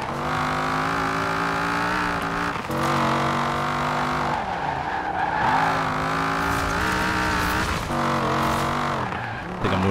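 A rat rod car in Forza Horizon 4 drives with a loud, steady engine drone whose pitch climbs and drops through gear changes, with tire squeal breaking in now and then.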